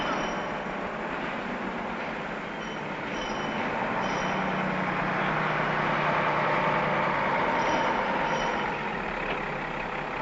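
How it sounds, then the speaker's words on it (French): A Mercedes Unimog U 406 truck with a lifting platform reverses toward a load platform, a steady mid-distance engine drone and rolling rumble lasting throughout with faint clinks near the top. "Le véhicule recule jusqu'au plan de charge."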